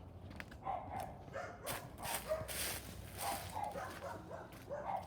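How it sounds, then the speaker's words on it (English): Several dogs bark in bursts at a house's front door, the barks moderately close and repeated irregularly over steady background noise. "As you can hear, we got some dogs."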